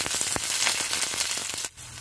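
Onion frying in hot oil with mustard seeds, green chilli and curry leaves gives a close, steady crackling sizzle full of sharp little pops, briefly dipping quieter near the end.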